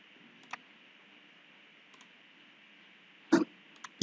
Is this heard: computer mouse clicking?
yes